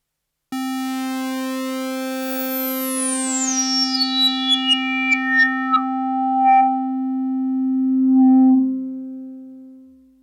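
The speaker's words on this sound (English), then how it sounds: "So that was the standard filter on the Argon 8 with a lot of resonance." A sustained tone from an Argon 8 synthesizer's standard filter with high resonance sweeping down, producing a whistling, squelchy peak that glides and pings before settling.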